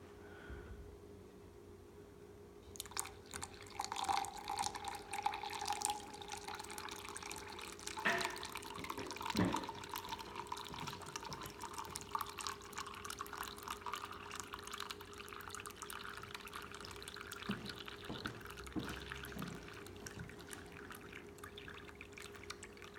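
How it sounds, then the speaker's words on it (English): Water pours steadily into a container to refill it, a continuous trickling and splashing stream that starts after a brief quiet moment and runs on with small drips and gurgles, close by and without talk. "Now it's gonna reappear. We're gonna fill it back up."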